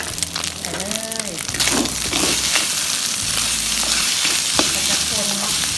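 Fried rice with fermented pork sizzles steadily in a hot pan, close and loud, while a spatula scrapes and stirs in repeated strokes. A voice is briefly heard early on.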